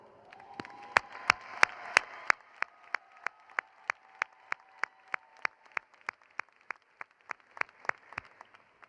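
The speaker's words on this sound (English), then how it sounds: "you deserve a resounding round of applause" Graduates at a commencement ceremony receive slow, rhythmic claps spaced about a third of a second apart, starting louder and fading slightly, with a faint crowd murmur underneath early on, heard at a distance in a large hall.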